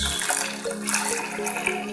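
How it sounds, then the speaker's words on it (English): Pineapple juice is poured into hibiscus flower juice for a homemade sobolo drink, a close, steady liquid splash and gurgle with small fluctuations running through the whole two seconds, no talking. "I'll first pour my pineapple juice"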